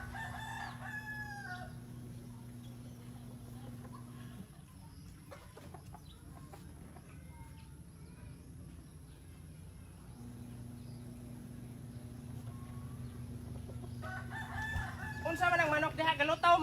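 A rooster crows in the distance near the start, then clucking and scattered rustles over a low hum; a louder crow rises at the end.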